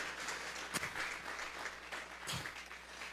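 Church congregation clapping in a sanctuary, a dense steady patter of many hands filling the whole moment with a couple of sharper bursts, no voices over it.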